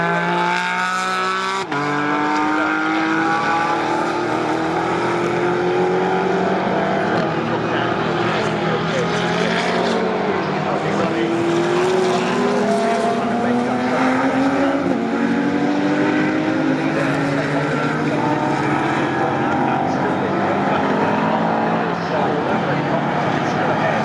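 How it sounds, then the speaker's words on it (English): A GT4 race car at Silverstone spinning on cold tyres, a loud sustained engine roar with rising and falling pitch sweeps under continuous race commentary, lasting the whole stretch. "Here is just a cold tyre spin"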